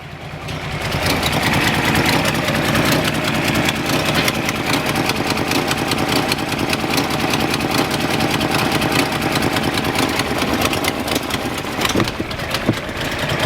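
A Datsun 240C engine idling steadily and loudly up close, a continuous rumbling drone that holds even throughout, with no talk over it.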